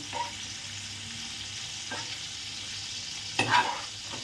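Vegetables fry briefly in rice bran oil, giving a steady low sizzle with a few scraping stirs of a utensil against the pan, the loudest near the end.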